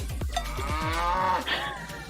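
A single long, low moo from a cow, close by and drawn out, trailing off near the end.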